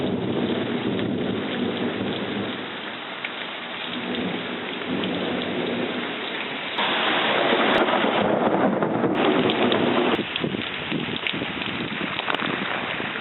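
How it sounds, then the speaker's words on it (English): Heavy rain pours steadily while thunder rumbles and cracks nearby, swelling louder partway through and staying dense to the end. "this is a pretty nice thunderstorm"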